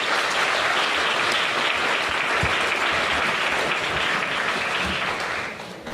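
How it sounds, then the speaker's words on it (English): A room full of people at a county community mental health forum gives the board loud, sustained applause that holds steady before tapering off at the end. "give the board another round of applause"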